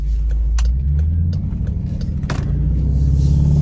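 A 2014 Dodge Durango with a 5.7 V8 pulls hard under acceleration, a loud, steady low engine rumble with road noise heard from inside the cabin and a few brief clicks, and no talking.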